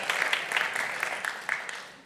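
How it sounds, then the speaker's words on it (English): An audience at a football signing ceremony claps, a fairly quiet, brief round of applause with a few louder claps that gradually fades toward the end. "Give him a round of applause."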